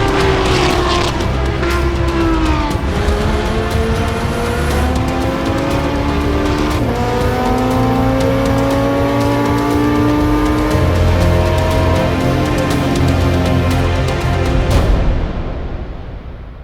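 A race car laps the COTA circuit at full effort, its engine screaming loud and close through repeated rising and falling gear changes and shifts, continuous throughout before cutting off near the end.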